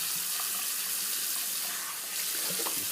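Water splashes and trickles steadily from a running tap during a shave with an Ever Ready Streamline single edge razor, a continuous close hiss with no talking.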